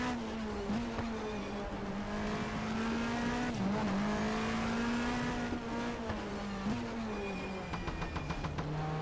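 Race car in the BTCC 1997 game heading out of the pit lane onto a wet, difficult Knock Hill circuit at night: a continuous close engine drone holding a steady pitch with brief dips, with no talk.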